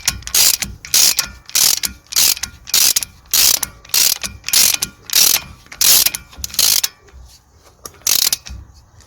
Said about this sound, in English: Just gonna drive in the hub middle bolt.